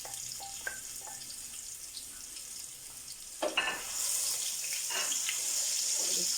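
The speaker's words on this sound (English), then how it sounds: "my oil is nice and hot. And to this I'm going to drop in my onion as well and let this fry up" Onion dropped into hot oil for braised duck with potatoes starts frying, and a hissing sizzle swells midway and holds steady and fairly loud, close by with no voices.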